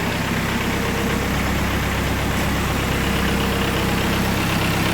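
A Dongfeng DF-404 G2 mini tractor with a four-cylinder 490 engine idles outdoors near a car market, a steady low rumble that holds at constant level and stays close throughout.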